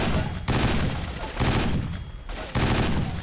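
Repeated bursts of automatic gunfire in 50 Cent: Blood on the Sand, three or four dense loud volleys separated by short gaps, with no talk.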